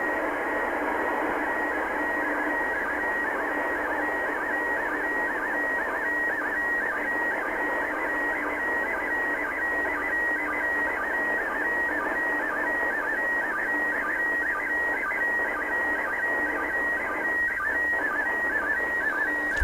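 A weak radio downlink from the International Space Station sending an image, low on the horizon: a steady hissy noise bed with a repeating, pulsing tone pattern running continuously throughout, no talking.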